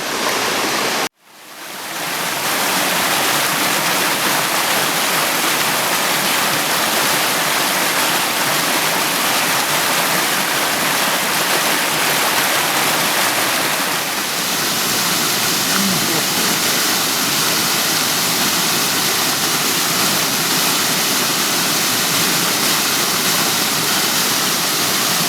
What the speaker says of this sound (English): This is part of the Upper Milk Creek Waterfall.